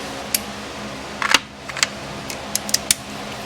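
A hand ratchet wrench clicks in short, sparse bursts while someone works on a kei car, the sharp ticks close by over a steady low hum, with no talking.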